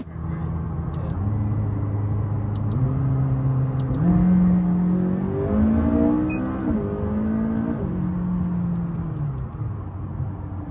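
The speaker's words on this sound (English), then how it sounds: "I'll throw in some clips of Joe and I's first drive in the car" A McLaren sports car accelerating hard on a drive, its engine rising and falling through several gear pulls at close, loud range, with a deep rumbling note throughout.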